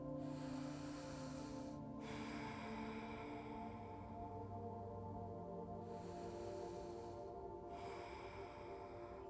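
Slow, deep breaths during a vinyasa yoga session, long airy inhales and exhales that are soft and close, with a brief pause between them.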